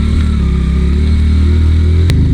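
Motorbike engine labouring up a steep, continuous climb in the upper Neelum valley of Kashmir, a loud, steady drone held close throughout, with a brief sharp rise in pitch near the end as the revs climb.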